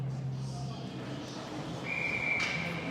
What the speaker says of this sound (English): Whistle dead.